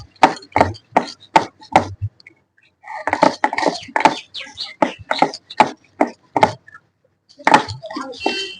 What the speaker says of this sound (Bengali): চলো এবার মশলাটা বেটে নিই।